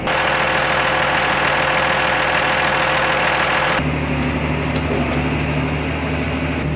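A tractor engine idles nearby during barley seeding with a constant low rumble and drone, its tone shifting slightly partway through, no talking.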